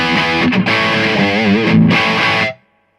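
A Carl Martin Plexitone overdrive pedal with its tone knob wide open drives a crunch electric guitar into a bright, sharp distortion; loud chords with quick bends sound up close for about two and a half seconds, then stop abruptly into silence.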